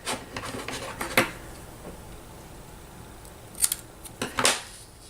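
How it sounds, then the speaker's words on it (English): Several short, crisp snips of scissors cutting paper, a few spaced apart then a quick cluster near the end, close up against a quiet background. "just do it with a pair of scissors"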